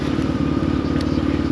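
Engine of a Voge AC525X motorcycle running as a steady, close, loud low rumble that holds evenly through the short stretch.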